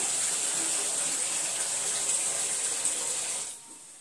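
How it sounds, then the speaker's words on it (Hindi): Tap water pours in a steady, close hiss into a kitchen container for about three and a half seconds, then cuts off, leaving quiet room tone. "जब तक पानी निकाल लेती हूँ"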